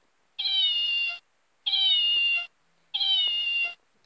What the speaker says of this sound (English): And she meows too.